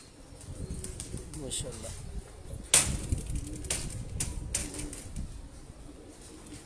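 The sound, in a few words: pigeons flapping wings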